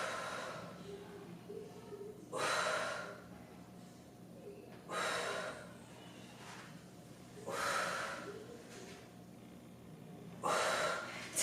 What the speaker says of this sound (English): Make sure you're breathing. Exhale at that hardest range of motion.